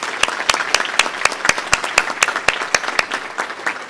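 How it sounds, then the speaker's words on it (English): Room full of supporters at a United Way annual meeting applauds, a loud continuous patter of many hands with sharp individual claps standing out in a fairly regular rhythm. "we'll just have another round of applause for all of our supporters here in this room"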